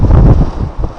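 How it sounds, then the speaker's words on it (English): Gusty wind blows outdoors beside a canal in Birmingham, buffeting the microphone in loud, low rumbling bursts that ease slightly toward the end. "it's getting a lot more windy, and the wind seals my bag"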